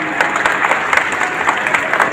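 An audience in an auditorium hall claps loudly and continuously, a dense near wash of applause lasting the whole couple of seconds.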